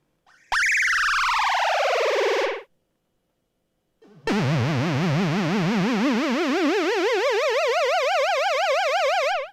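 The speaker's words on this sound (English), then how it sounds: "siren phaser noises." A semi-modular analog synth, the Crave, produces loud siren-like phaser sweeps: a falling wail, a brief silence, then a long rapidly wobbling tone that rises steadily in pitch.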